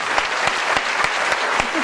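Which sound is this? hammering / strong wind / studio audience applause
studio audience applause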